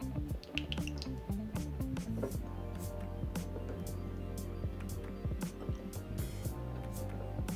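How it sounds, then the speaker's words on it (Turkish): Glue poured into a bowl with a little water while making slime with paper clay, giving dense wet dripping and squishing sounds that run steadily throughout at close range. "Ben bir tutkalımdan bir miktar döküyorum."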